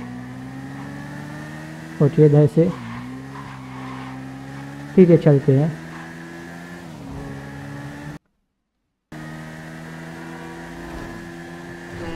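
A motorbike ridden in GTA V hums at a steady engine drone, with brief revving swells. Someone speaks briefly over it.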